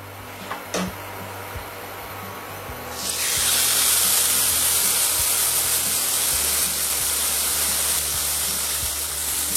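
Duck breast steak is laid in a very hot frying pan. It bursts into a loud, steady sizzle that carries on to the end after a few quiet clinks.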